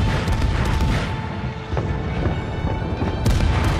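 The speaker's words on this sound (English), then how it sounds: "Mahan, stop shooting at me." Naval gunfire from a Mahan destroyer in World of Warships, a dense continuous roar of loud, close battle noise with scattered impacts running throughout.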